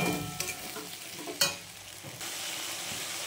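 Spices with Kashmiri chilli powder sautéing in a pan, a soft sizzle under scraping stirs with a couple of sharp clinks of the spoon against the pan, faint and close.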